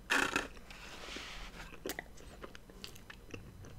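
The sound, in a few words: eating a s'mores crepe with ice cream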